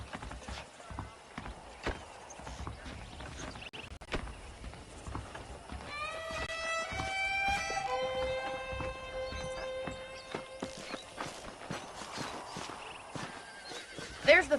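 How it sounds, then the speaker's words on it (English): A horse whinnies loudly with a long, wavering neigh, while hooves clip-clop steadily nearby and faint ambience hums underneath, in the video game Red Dead Redemption. "The horses are saddled up over here."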